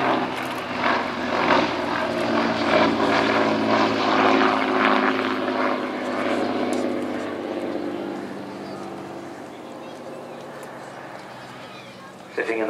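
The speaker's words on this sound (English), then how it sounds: "Sitting in the front, of course, is a Rolls-Royce Kestrel, another of the famous lineage of Rolls-Royce V12s." A Hawker Demon, a 1930s biplane fighter with a Rolls-Royce Kestrel V12 engine, flying at Old Warden: a steady propeller and engine drone, loud at first and then gradually receding, with someone talking over it throughout.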